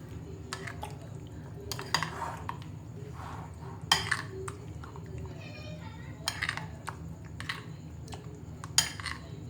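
Marinated chicken pieces are mixed in a bowl with scattered wet squelches and clinks of utensils against the dish, close and fairly quiet, over a steady low background hum with occasional voices.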